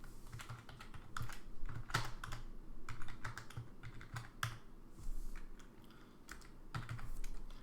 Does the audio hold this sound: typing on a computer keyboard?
yes